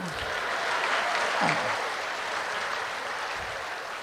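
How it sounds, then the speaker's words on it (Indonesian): A church congregation claps at a moderate distance, with a steady wash of clapping and a few faint voices underneath. "Tuhan, tepuk tangan"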